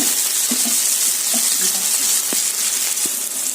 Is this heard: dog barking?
no